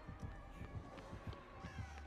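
Crows in the Dead by Daylight video game give repeated faint caws at a roughly even rhythm, about every half second, over a quiet background.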